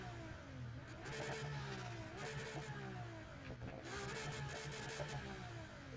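A Ferrari FXX K Evo in the NFS Heat video game revs repeatedly, its engine note rising and falling in several surges across a few seconds, loud and steady with no voices.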